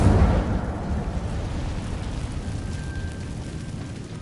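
Casting the Incendio fire spell in Hogwarts Legacy releases a loud burst of roaring, crackling flame that starts hard and trails off into a sustained rumbling whoosh, with a faint thin whine in the background.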